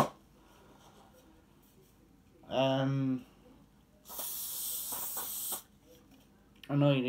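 A steady, broad hiss of aerosol spray lasting under two seconds, framed by short bursts of voiced sound before and after.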